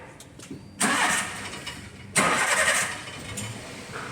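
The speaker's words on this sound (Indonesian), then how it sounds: "kita nyalakan mesin terlebih dahulu" A car engine cranks and catches during routine periodic servicing with the car up on a workshop lift, two loud bursts of starting and revving, then a steady idle hum.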